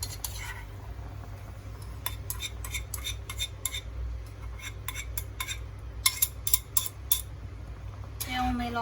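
Beaten egg goes into a homemade Chinese spinach soup in a pot and gets stirred, with light metallic clinks and scrapes of a spoon or chopsticks against the pot over a low steady hum, no talking.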